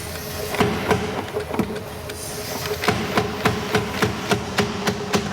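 A restored steam hammer reciprocates on its own, thumping out a steady run of heavy, evenly spaced strokes over a continuous hiss and mechanical rumble, close and loud throughout.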